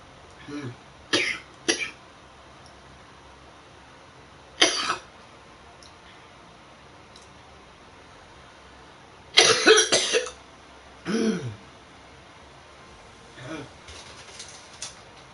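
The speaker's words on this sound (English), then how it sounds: "haven't had a cough that pushed phlegm up in a while" A few harsh, wet coughs and throat-clearing bursts, close by, spaced out across a quiet background with brief pauses between them.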